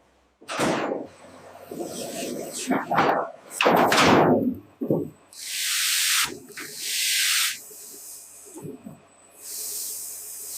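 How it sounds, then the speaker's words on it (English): Cleaned cassava roots tumbling through an abrasive peeler in a large factory, harsh scraping and rushing hiss in loud, uneven surges, with bursts of bright spraying noise between them. "Now clean, they enter the abrasive peeler."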